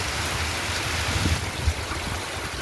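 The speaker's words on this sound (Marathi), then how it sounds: "अचानक डिसेंबर महिन्यात आलेला हा पाऊस" Steady, dense rain pours down in an unseasonal December downpour at Jakhinwadi near Karad, a constant hiss filling the whole clip with no voices.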